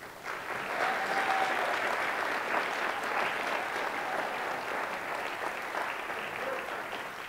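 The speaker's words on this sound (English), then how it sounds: "can we please have a round of applause for all eight candidates?" A board of education candidate forum audience gives a sustained round of applause for the candidates, a dense, even clapping that holds steady for several seconds in a large room.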